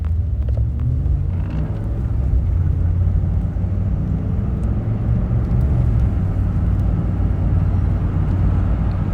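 A car's steady interior drone while driving, a continuous low rumble of engine and road noise that holds at an even level throughout, with no talking.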